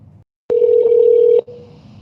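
A telephone sounds one sustained dialing tone lasting nearly a second, loud and close, followed by a faint trailing tone and a brief murmur of room noise before it.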